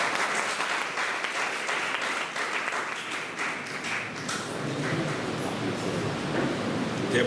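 A church congregation at a Sunday service breaks into sustained, dense applause, many hands clapping steadily at close range throughout.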